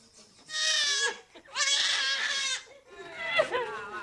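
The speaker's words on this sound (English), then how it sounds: "Our neighbor's goat is complaining" A farm goat in Ghana bleats three times in a row, fairly close and loud, each call a drawn-out wavering cry separated by short pauses.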